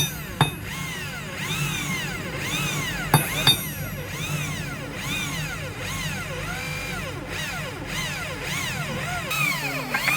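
A power drill whines in repeated rising and falling bursts as it bores into material, close and steady, punctuated by a few sharp knocks.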